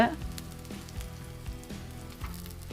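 Paniyaram batter of green gram and jaggery sizzles and fries in a paniyaram pan on a stove over low heat, a steady close crackling hiss with soft periodic bubbling pops.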